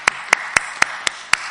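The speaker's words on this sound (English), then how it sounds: "So let's give all of you a round of applause." An audience at a church heart care forum claps, but only six distinct, evenly spaced claps come through, sharp and close, rather than a full round of applause.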